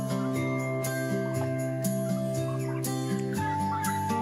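Turkeys on a Punjabi farm being let out into a free-range area gobble and call in repeated bursts, with several birds overlapping at close range and light tinkling in the background.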